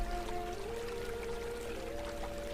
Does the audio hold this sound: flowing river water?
yes